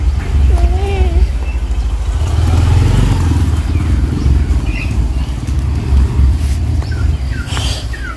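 A motorcycle engine rumbles steadily close by at a house near a mosque, with birds chirping and people talking briefly over it.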